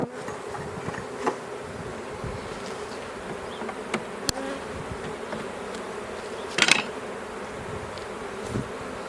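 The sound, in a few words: honey bees buzzing while installing a package of bees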